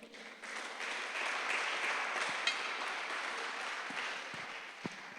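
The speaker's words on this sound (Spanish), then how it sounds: "Damos una ofrenda de palmas a Dios." A church congregation applauding in worship, sustained dense clapping that swells and holds for several seconds with a few sharper claps standing out.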